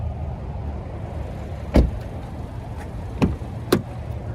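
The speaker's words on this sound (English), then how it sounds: "you can just fold it back into place till it locks" The rear seat back of a 2024 Hyundai Kona Limited is folded up into place, giving one firm thunk as it latches, followed by two lighter clicks against a quiet cabin background.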